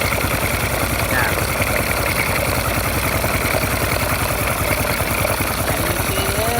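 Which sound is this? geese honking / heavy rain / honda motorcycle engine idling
honda motorcycle engine idling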